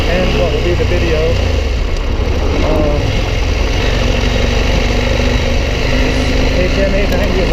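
A 2021 KTM 890 Adventure R motorcycle engine runs steadily on a Black Hills single-track trail, a continuous close mid-pitched drone blended with heavy wind buffeting, with no clear revs standing out.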